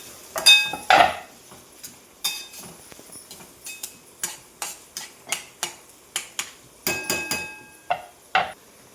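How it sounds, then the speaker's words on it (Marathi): Onion being sautéed until golden brown for palak bhaji, with a metal spatula scraping and clinking against the pan in a steady rhythm of sharp, close strokes, no talking. "कांदा पण गोल्डन ब्राऊन होईपर्यंत परतून घ्यायचा आहे"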